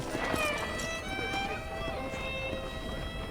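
Horse in the Red Dead Redemption video game, hooves clip-clopping at a walk beneath someone speaking Portuguese over game ambience.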